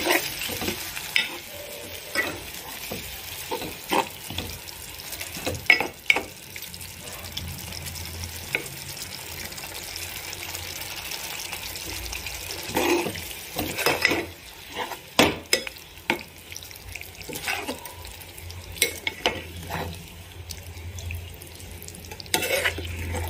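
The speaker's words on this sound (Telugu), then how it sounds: "టమాటో మండేటప్పుడు అందులోకి చిటికెడు ధనియా పౌడర్, తగినంత కారం వేసి ఫ్రై చేసుకోవాలి" Tomatoes frying in a pan with a pinch of coriander powder and chilli powder for bachelor-style pudina rice: a steady sizzle runs throughout, with utensil scrapes and clatters from stirring, and no talking.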